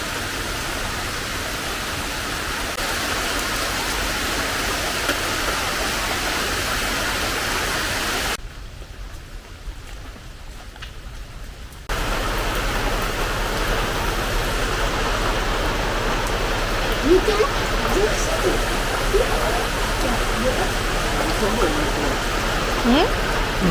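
Water falling from a homemade setup at a house on a rainy night, a steady hissing patter that cuts out for a few seconds midway and then resumes slightly louder, with faint background chatter.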